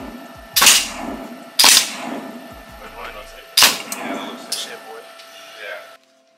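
Rifle shots crack out at a U.S. Army shooting range, three or four sharp loud reports spaced about a second apart, with quieter clanks and people talking in between.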